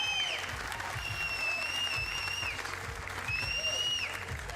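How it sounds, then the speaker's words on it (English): Continuous crowd applause at a Gran Turismo Sport championship final, dense and steady throughout, with some whistles and cheers rising above the clapping. "Everyone, give him a round of applause, man."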